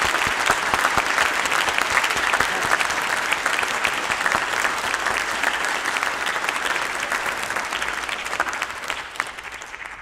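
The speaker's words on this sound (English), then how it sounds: "Let's give them all a round of applause." A full room of steady, dense clapping for youth orchestra award winners holding trophies, loud and even for the whole stretch, tapering slightly at the end with no talking over it.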